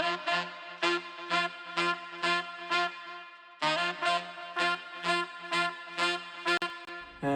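Staccato horn stabs added over a song beat, punchy brass-like chords hitting in a repeating rhythmic pattern with short gaps, bright and upfront, with no talking.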